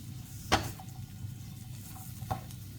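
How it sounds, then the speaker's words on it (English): Vegetables for spring rolls sauté gently in a pan over low heat, giving a faint steady sizzle broken by two sharp clicks from a wooden spoon stirring, with nobody talking. "So just sauteing that."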